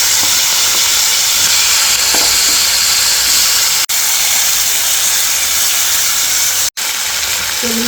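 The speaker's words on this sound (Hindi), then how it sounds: "तो मिर्ची हमारी फ्राई होने लगी" Green chilies frying in hot oil with cumin, nigella seeds and asafoetida, a steady loud sizzle and hiss throughout with no talking, broken by two brief drops.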